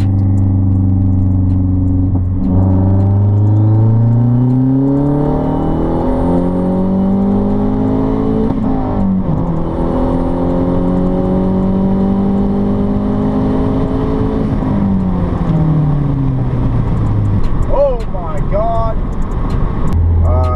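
A methanol-injected Mazdaspeed 3 at 23 psi boost pulls hard at wide open throttle, engine tone climbing steadily through a gear, dropping at the shift and rising again, loud and continuous from inside the car.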